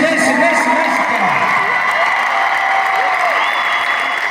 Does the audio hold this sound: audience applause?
yes